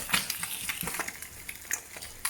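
Eggs scrambled in a pan for brick pastries, a utensil scraping and stirring with soft irregular scratches and light clinks over a faint background sizzle, close and fairly quiet.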